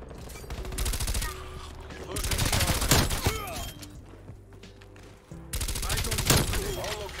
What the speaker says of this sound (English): God, I love that tracer fire.